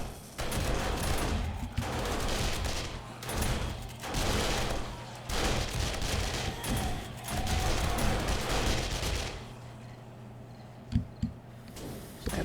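Automated turrets in the game 7 Days to Die firing at vultures in long rapid bursts of gunfire, loud and sustained for several seconds before tapering to a few isolated shots.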